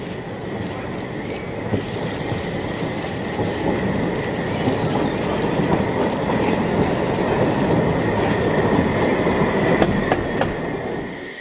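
A narrow-gauge steam train running on the Pollo line, locomotive 99-4511, rolls in with steady wheel rumble, rail clatter and faint squeals, loud and close throughout.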